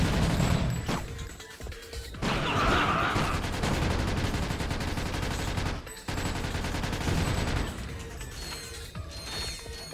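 Rapid weapon fire in Ratchet Deadlocked, dense bursts of shots and mechanical clatter filling most of the stretch, loud and close with brief gaps between volleys.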